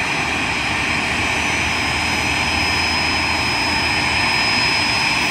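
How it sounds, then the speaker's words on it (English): A jet airliner taxis up to an airport gate after a long-haul flight from the Philippines, its engines producing a loud, steady roar and whine that holds constant throughout, with no talking. "So that's her plane pulling up right there."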